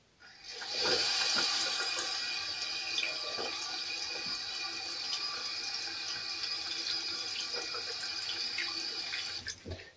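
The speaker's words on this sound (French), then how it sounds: "Là, je fais couler de l'eau froide" Cold water running steadily from a tap into a sink, used to rinse a straightened part while repairing a chainsaw chain, a continuous close rushing flow lasting the whole stretch with no talk.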